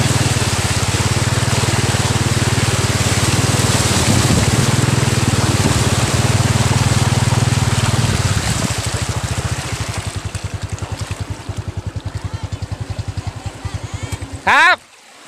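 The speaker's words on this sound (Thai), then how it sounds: "น้ำไหลแรงครับ" Floodwater runs strongly past, a loud, continuous rushing roar up close with a pulsing mechanical drone under it, then thins to a rapid rhythmic chugging before a brief burst and a cutoff.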